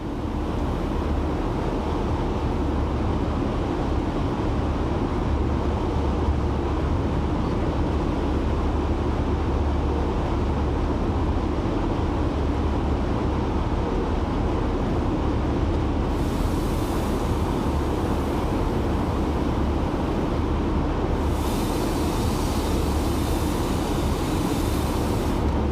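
A Class 45 diesel locomotive on a vintage rail tour over the East Coastway in Train Sim World 2 rumbles steadily with a loud, continuous low engine drone and rail noise, unbroken for the whole stretch with no talk.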